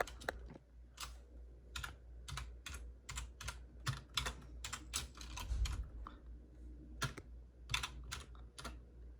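Typing on a computer keyboard while scripting a Roblox game, a steady run of close, crisp key clicks in short bursts with brief pauses, no talking.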